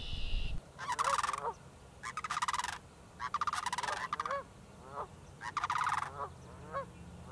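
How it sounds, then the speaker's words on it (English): Sandhill cranes calling in a marsh during courtship dancing, loud rattling bugling calls in four or five repeated bursts, close and clear with quiet marsh background between. "Sandhill cranes."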